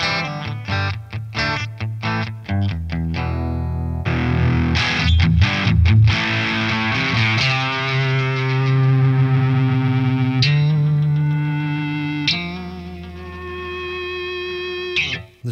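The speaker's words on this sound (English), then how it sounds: "The next one is the twin, Fender twin." An electric guitar plays through a Boss IR-2 amp-and-cabinet simulator pedal set to a Fender Twin amp voice, loud and up close, with choppy strummed chords giving way to sustained, ringing distorted notes and fading feedback.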